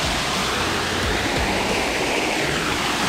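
Waterfall at Wildcat Wayside pouring steadily in a cool outdoor setting, a dense, constant broadband rush of falling water that stays loud and even throughout, with no voices.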